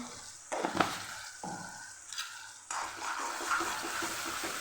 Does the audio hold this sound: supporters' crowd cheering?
no